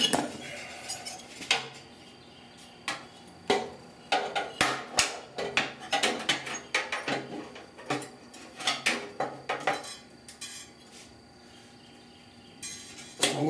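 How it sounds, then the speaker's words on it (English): A metal clamp is shifted around on a rusted 1969 Chevrolet C10 truck core support being repaired, giving a string of sharp, close metallic clanks and rattles in irregular bursts, with quiet gaps between. "I might move that clamp around."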